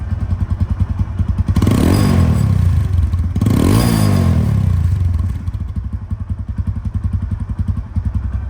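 A second-hand TVS Apache RTR 160 2V motorcycle engine running close by, a loud steady idle thump with two rising-and-falling revs in the middle before settling back to idle.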